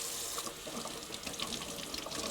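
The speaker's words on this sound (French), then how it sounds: "vous le passez à l'eau, tout simplement." Tap water runs steadily into a sink while a hand-dyed rainbow sweater is rinsed beneath it, a continuous close splashing rush with no pauses.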